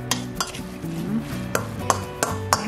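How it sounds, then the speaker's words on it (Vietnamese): A spoon stirs and mashes a vegetarian filling for fried betel leaf rolls in a bowl, giving several sharp clinks and taps of utensil on dish over soft scraping, with a voice faintly audible under it. "Giờ trộn đều lên nè các bạn thấy không."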